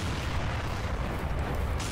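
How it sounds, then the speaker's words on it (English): Bomb blast in a Doom mod shooter game, a dense, loud, sustained rumbling boom that fills the whole moment with low roar and crackle, with a brighter burst near the end. "we just bombed the whole room"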